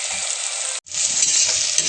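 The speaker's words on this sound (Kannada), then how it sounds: "ಆನಿಯನ್ ಫ್ರೈ ಆಗ್ತಾ ಇದೆ ನೋಡಿ." Chopped onions frying in hot oil in a pan for white chicken pulao, a loud continuous sizzle that cuts out for a moment when stirred, then resumes strongly.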